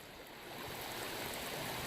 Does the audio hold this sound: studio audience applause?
no